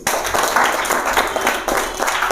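A group of children clap for themselves at a values class, a loud, close, continuous burst of clapping with uneven rhythm and no voices over it.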